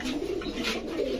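Racer pigeons for sale at a pigeon market coo in soft, steady low murmurs, close by and continuous.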